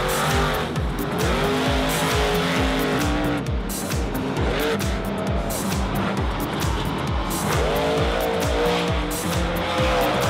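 Max D monster truck at a Monster Jam event, its engine roaring loud and steady throughout with rising and falling revs and tire noise, no talk.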